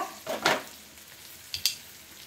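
Fish frying on a tawa with insta masala, a quiet sizzle broken by two short crackling bursts, with no voices.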